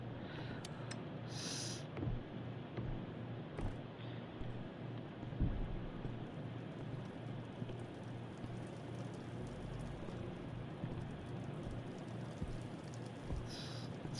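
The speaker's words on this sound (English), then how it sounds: "It's raining outside." Steady video-game rain pours continuously with a low rumbling undertone, constant and enveloping throughout, with no voices.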